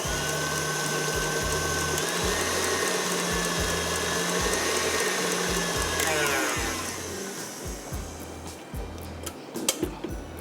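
An electric hand mixer whips cream for a pavlova, a steady motorized whir with a rhythmic pulsing hum that drops off toward the end, followed by a few light clinks and knocks.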